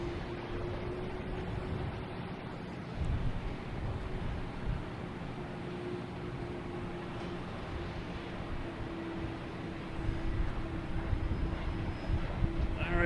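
A JetBlue Airbus A321 lines up on runway 4 right at Boston Logan Airport, its engines giving a steady distant rumble with a sustained low tone that swells slightly toward the end, under faint outdoor noise.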